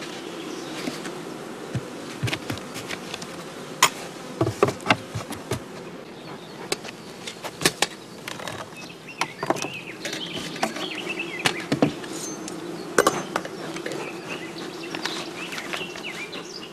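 Honey bees buzz steadily around a queen cage in a hive, a dense continuous drone with many close, sharp individual passes and flickers throughout.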